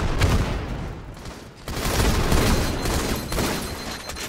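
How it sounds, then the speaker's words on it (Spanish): Rapid bursts of gunfire from the Halo: The Master Chief Collection multiplayer game, dense, loud overlapping shots with a brief dip before the firing picks up again, with no speech. "Los balazos como que tardan a veces en salir."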